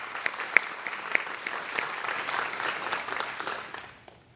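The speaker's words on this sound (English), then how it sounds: "Please join me in applauding both Thomas and Alan for their achievements." A graduation audience at Lancaster County Academy applauds steadily for about four seconds, with a few sharper individual claps standing out near the start before the clapping thins and fades.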